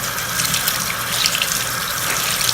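Tap water runs steadily in a close, continuous hiss and splash at a sink as a makeup beauty blender sponge is held under the stream and wetted.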